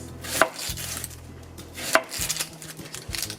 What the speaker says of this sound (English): I'm gonna cut this whole onions